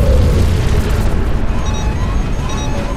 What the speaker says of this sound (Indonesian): ruang penghubung Icarus meledak yang membuat dua kapal angkasa itu saling menjauh